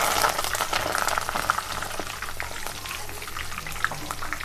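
Curry leaves frying in hot oil for pakodi give a steady, close bubbling sizzle with dense crackling pops throughout.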